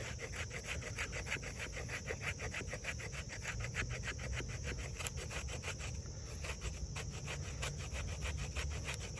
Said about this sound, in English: scraping the flat part of the piece of wood with the jimping